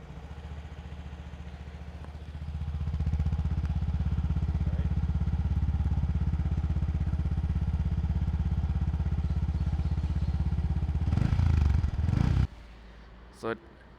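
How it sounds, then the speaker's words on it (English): A Yamaha WR155R motorcycle engine starts and settles into a steady, loud, rumbling exhaust note that holds for several seconds, then cuts off abruptly with a brief clatter. "I'll show you the exhaust note. So, just a quick startup."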